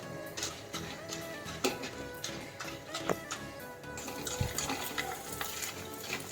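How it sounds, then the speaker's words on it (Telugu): Cornflakes fry in hot oil while being stirred, with a continuous sizzle broken by repeated clicks and scrapes of a utensil against the pan, close and fairly quiet. "ఇలాగ తిప్పుకుంటూ కాన్ఫ్లేక్స్ కూడా చక్కగా వేయించుకోవాలి ఆయిల్లో"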